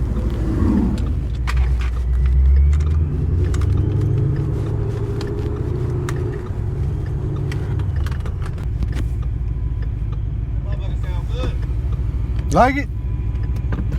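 A 700 HP Mustang GT idles nearby with a deep, steady engine and exhaust rumble, swelling briefly into a rev early on, while people talk over it.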